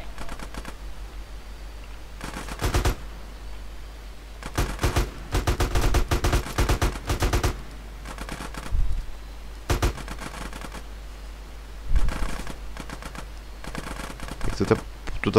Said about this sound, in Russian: Кто-то подо мной прям стреляет